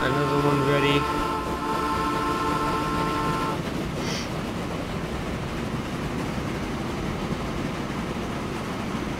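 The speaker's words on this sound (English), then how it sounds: "There's another train." Trains run in the railway-building video game Train Fever. A steady rumbling train noise fills the clip, with a brief horn-like tone near the start and a short whistle, and no talk.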